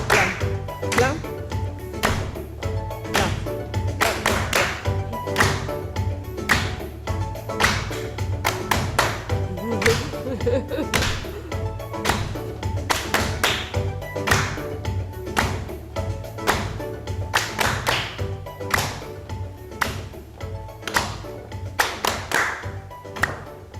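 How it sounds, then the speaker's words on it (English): An audience at a poetry, spoken word and music night claps along in a steady rhythm, sharp regular beats repeating throughout over faint background tones. "You can join in the clapping at home or wherever you are."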